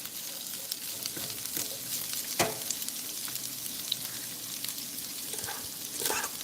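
Cabbage, mushrooms and green onion sizzle in a pan with soy sauce, a steady crackling fry with a few sharper pops and the scrape of stirring throughout.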